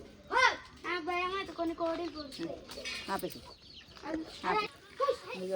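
A chicken clucking close by in a village setting, with several short clucks and squawks in irregular bursts, mixed with people talking.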